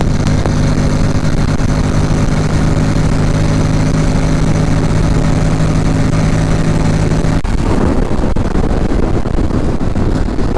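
A Honda X-ADV scooter on the Interlagos track, its engine loud and close with steady tonal whine that abruptly drops as it downshifts near the end, followed by rougher, broadband engine roar.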